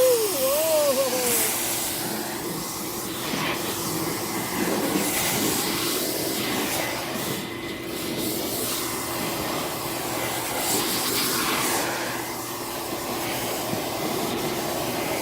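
An air blower hisses steadily as it pushes dust, bird dander and feathers out of an air purifier, a close, continuous rushing stream of air with slight fluctuations throughout.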